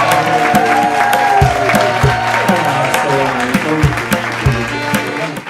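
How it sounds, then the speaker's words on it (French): A crowd claps and cheers for a guest being introduced as someone's dad, with steady noise running under a rhythmic musical backing for the whole stretch. "un maximum de bruit et d'applaudissements pour le fameux papa de Dahkman"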